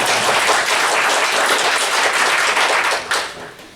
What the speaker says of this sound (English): go ahead, you clap, you clap.